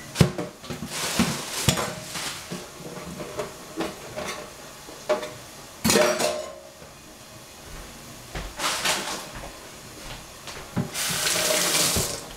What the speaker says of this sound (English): And clean up the pot, the saucepan.